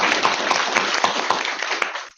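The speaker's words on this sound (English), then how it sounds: "So round of applause." Dense applause from an audience at a film panel discussion, steady and fairly loud throughout, with sharper individual claps standing out before it fades at the end.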